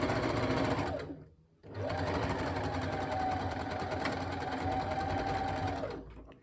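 Sewing machine stitching through layered fabric for a headband, a steady close whirring run that pauses briefly near the second mark and then resumes for several seconds before stopping.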